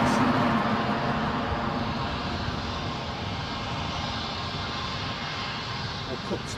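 A Eurowings airliner taxis at Edinburgh airport, its engines a steady broad roar that stays loud and even throughout, fading only slightly toward the end.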